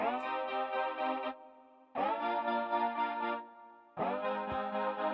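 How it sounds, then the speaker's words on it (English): Synth glide from the Pure Glide sound in the Pure Synth iOS app, three sustained rich chord-like notes, each starting with a pitch slide and ending abruptly, loud and alone with a slight chorus shimmer. "And you can hear that glide. It's like sliding into."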